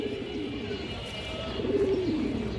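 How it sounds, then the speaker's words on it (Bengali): A pair of large Darshak pigeons coo repeatedly near at hand, rolling low pulsing calls rising toward the end over a faint steady background, no speech. "এই যে দেখেন অনেক সুন্দর একটা পেয়ার দর্শক"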